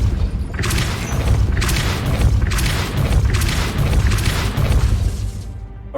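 Depulso spell cast in Hogwarts Legacy during combat, loud rumbling booms and whooshing bursts that repeat in pulses about every second over a continuous roar, with no talking.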